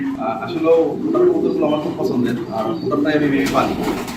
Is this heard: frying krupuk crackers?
no